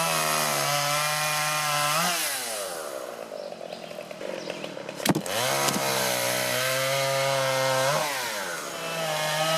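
A chainsaw bucks felled trees into logs, a loud close engine drone that bogs down and revs back up as the chain cuts through wood.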